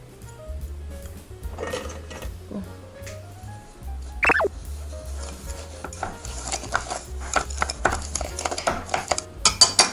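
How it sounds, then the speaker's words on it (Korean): Ingredients being stirred into sugar in a bowl for a classic French pastry, with a steady run of scraping and clinking from utensil against the bowl that turns busier and more rapid toward the end. No one speaks. "그래도 한번 설탕에 섞어보겠습니다."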